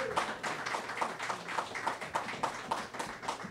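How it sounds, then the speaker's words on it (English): A crowd applauds for a police homicide captain introduced at a community bookstore press conference, with steady, dense clapping throughout at moderate loudness. "And you heard that round of applause"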